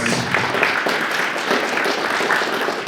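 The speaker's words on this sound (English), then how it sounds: "thanks to Ika again. Huge applause" An audience at a Turku AI meetup applauds, giving a steady wash of clapping that holds at an even level for a few seconds.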